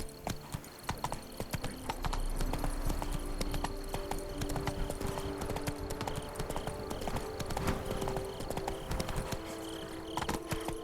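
Roach the horse gallops in The Witcher 3, a steady rapid clip-clop of hooves on ground running the whole way, close and prominent over a layer of game music and ambience.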